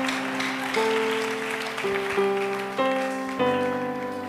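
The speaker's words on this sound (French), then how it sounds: "On acclame très fort." A church congregation applauding during a sermon, a steady wash of clapping under sustained organ-like keyboard chords that shift every second or so, moderately loud throughout.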